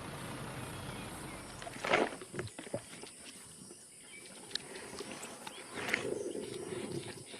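White lions at the carcasses of wild prey in Timbavati, with faint growls and low rumbling roars in a few bursts over quiet rustling, heard from a distance.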